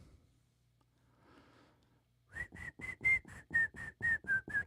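A person whistles a tune in short, separate, breathy notes, about ten of them in a steady rhythm, close and clear, after a quiet stretch with a faint low hum.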